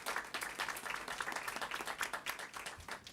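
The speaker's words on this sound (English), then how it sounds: "let's give them a big round of applause" An audience at a school board meeting applauds honored committee members, sustained dense clapping from many hands, moderately loud and even throughout.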